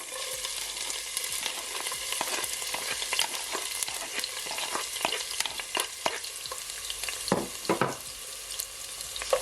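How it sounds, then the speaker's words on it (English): Garlic and scotch bonnet pepper sauté in a hot pan for yellow rice, giving a steady close sizzle with occasional scraping stir clicks throughout, no voices. "you're just gonna allow it guys to saute for just at least 50 seconds"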